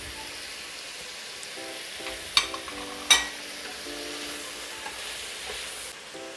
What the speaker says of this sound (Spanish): Vamos moviendo todo el conjunto para que no se nos enganche.